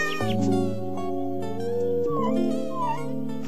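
Kitten meows from the Nintendogs + Cats game, a few short rising mewing calls heard over steady game music.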